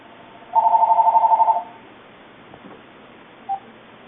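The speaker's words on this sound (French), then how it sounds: "Sophie appelle Léa et lui raconte." A telephone with a rapid run of about a dozen electronic beeps close together, then silence and a single short tone, clear and loud in a quiet room.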